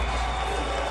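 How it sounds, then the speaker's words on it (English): A large Saudi crowd roars with sustained cheering for Francis Ngannou at a heavyweight boxing event, a dense, continuous wall of arena noise filling the whole second. "Love from the Saudi crowd for Francis Ngannou"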